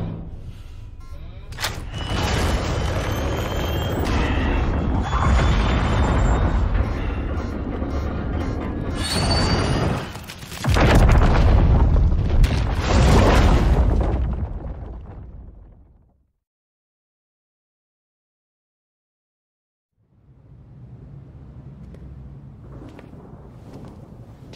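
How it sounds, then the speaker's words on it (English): Explosion destroying a Lazarus pit in the video game Gotham Knights: a loud, sustained roaring blast with rumble and debris, swelling again near the middle before cutting to silence, then a quieter rumbling tail. "The Lazarus pit was completely destroyed in the explosion."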